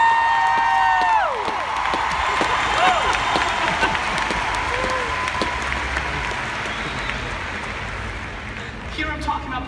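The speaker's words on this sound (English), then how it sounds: "I just got a huge cheer" A large summit audience cheers, whoops and applauds loudly and steadily throughout, with crowd voices mixed into the sustained clapping.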